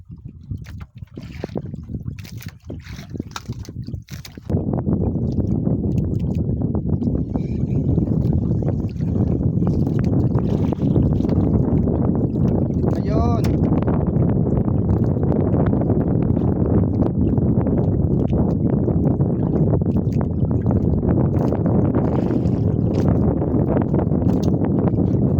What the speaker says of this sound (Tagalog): lumakas na yung hangin